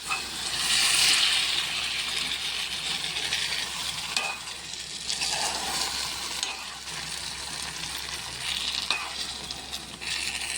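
A white brinjal masala curry is stirred slowly in the pan after spiced water is poured in. It gives a continuous, moderately loud bubbling sizzle with soft scraping strokes and no voices.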